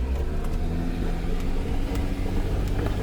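A Jeep Rubicon off-road engine labours and rumbles loudly up a steep muddy slope during a vehicle rescue, a sustained close low drone with no one speaking.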